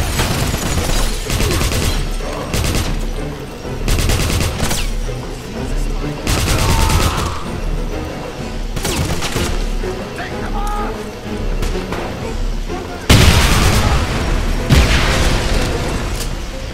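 Grenade explosions and bursts of gunfire in the Wolfenstein shooter game, with loud repeated booms and rapid volleys of shots coming in clusters throughout, alongside someone talking.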